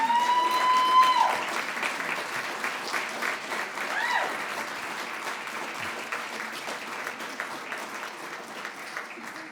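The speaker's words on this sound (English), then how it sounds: "have a round of applause for them" A room of people applauds for graduating nurse practitioner students, the clapping steady and moderately loud, with a brief tone and faint murmurs near the start.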